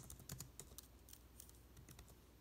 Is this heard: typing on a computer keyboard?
yes